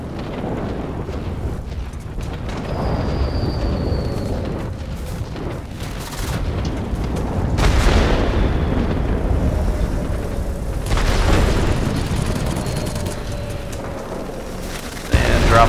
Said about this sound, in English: Dropped a couple more bombs.